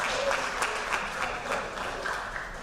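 Steady crowd applause at a fall sports athletic banquet, honoring a girls varsity soccer team and its award recipients; dense, even clapping from a large room that holds at a constant level throughout.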